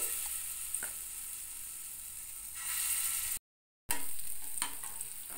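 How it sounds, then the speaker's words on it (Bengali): Chana dal fritters frying in hot mustard oil over a low gas flame, a steady soft sizzle with occasional pops and clinks, brief gap of silence midway, no talking. "এইবার বড়াগুলোকে একে একে ভেজে নিতে হবে।"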